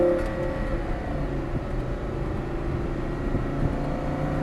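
A Lamborghini Gallardo supercar pulls away after an upshift, its engine note holding a steady, tonal drone with a faint whir, heard from inside the cabin at moderate loudness.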